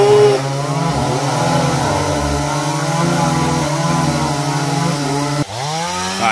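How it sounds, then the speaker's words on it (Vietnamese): A chainsaw cuts a tamarind tree into sections for firewood, its engine droning loudly and steadily with shifting pitch as it bites into the wood, then dropping and revving back up near the end. "Giờ anh Văn anh cưa cái gốc me đó nha các bạn."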